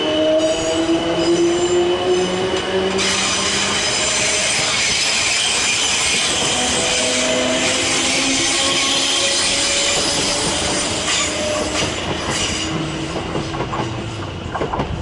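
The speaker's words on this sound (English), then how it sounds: "And this train is also now leaving for London Waterloo." A 12-car passenger train departs Clapham Junction toward London Waterloo, wheels squealing in drawn-out tones over a steady rumble and rhythmic clatter on the rails, loud and close throughout.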